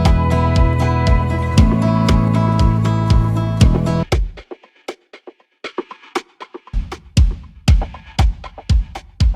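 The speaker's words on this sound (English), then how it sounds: "Then we have this Perc loop that sounds like this." A percussion loop for a folk worship song: sharp, evenly spaced hits that carry on alone after a fuller backing drops out, sparse at first and then busier and more rhythmic.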